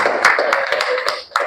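Several people at a reading event applaud, a short burst of scattered, fairly close hand claps mixed with a few murmured voices, tapering off near the end before a final clap.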